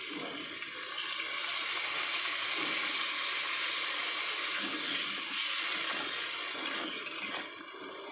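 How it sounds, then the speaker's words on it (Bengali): Water pours steadily into a pot of thin chicken stew, a continuous close splashing rush that fades out at the end. "চিকেন স্টু কিন্তু এরকম হালকা পাতলাই হয়। একটু জল দিয়ে দেবো।"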